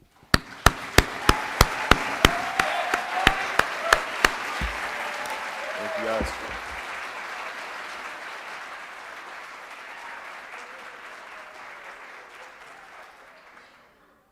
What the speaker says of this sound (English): let's all give a huge round of applause to the graduating class.